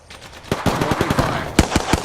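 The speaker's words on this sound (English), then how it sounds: "Opening fire." Rapid gunfire in Pathfinder gameplay: a burst of sharp, loud shots in an uneven rhythm, with heavier cracks near the end.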